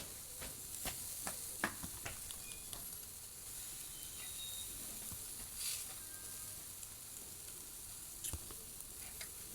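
Barbecue meat sizzling on a grill, a steady close hiss of frying with scattered pops and crackles throughout and no talking.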